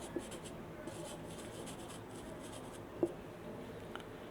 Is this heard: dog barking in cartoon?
no